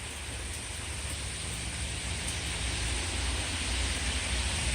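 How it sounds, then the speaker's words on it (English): Steady outdoor rain that has been falling for about an hour makes a dense, even hiss throughout, constant and fairly loud with no breaks or voices. "It's been raining here for a while, maybe like an hour."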